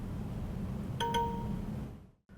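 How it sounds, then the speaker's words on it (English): KitchenAid quad door refrigerator door-open alarm sounds as a brief pair of bright beeps with a short ringing tone, heard faintly over a steady kitchen background rumble. "You'll also hear an alarm that will sound like this."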